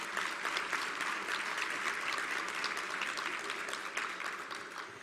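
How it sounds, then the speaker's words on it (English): At a NAACP Freedom Fund dinner, a roomful of guests gives dense, fairly distant applause that keeps an even level throughout. "Yes, that deserves some applause."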